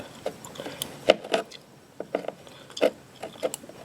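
Tightening a part on a Troy-Bilt lawn mower during a tune-up, heard as sharp ratcheting clicks and metallic turns in short, irregular bursts. The sounds are close and fairly quiet, with no talking.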